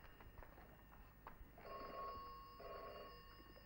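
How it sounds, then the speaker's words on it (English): A telephone rings in an old archive film, giving two long electric bell trills separated by a pause against a quiet background hiss. "Miss Perkins, the telephone's ringing."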